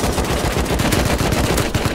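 AK rifle fire in the game Rust rattles out in a continuous rapid automatic burst, loud and close, with dense repeated shots filling the whole moment.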